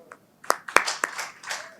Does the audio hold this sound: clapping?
yes